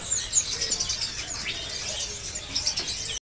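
Small birds at a kiosk in Pramuka bird market chirp and tweet in quick, bright bursts, fairly close, with soft background hubbub and a brief drop to silence near the end.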